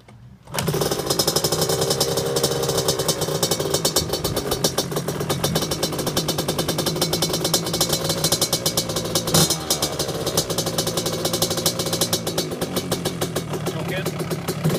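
A KTM 65 SX dirt bike's small two-stroke engine idles steadily after a cold start with the choke on, a loud, close, continuous buzzing rattle that runs unbroken after a brief quiet opening.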